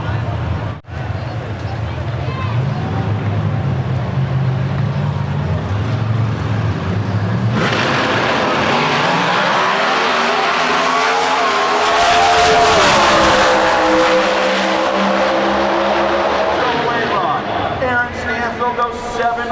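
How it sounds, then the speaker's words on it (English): Factory X drag cars at the NHRA Four-Wide Nationals in Charlotte, North Carolina, roar loudly and continuously down the strip, engines rising and falling in pitch as they accelerate past, with an announcer talking over the noise. "Goes 7:08 at 193 miles per hour and joins his father Greg as the only 2 winners in the history of Holly EFI Factory"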